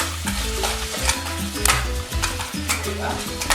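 Cubes of beef browning in a pot, with a steady loud sizzle and rhythmic stirring scrapes, close up and without talk.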